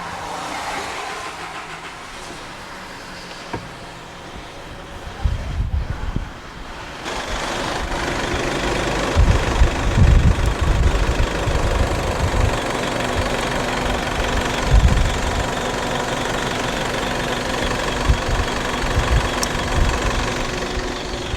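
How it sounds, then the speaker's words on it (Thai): An Isuzu All New D-Max pickup engine turns over about five seconds in, then settles into a loud, steady, slightly knocking idle that runs close by for the rest of the clip, with no talking. "เดี๋ยวเราจะทำการสตาร์ทรถก่อนแล้วค่อยมาเสียบปลั๊กทีหลังนะครับ"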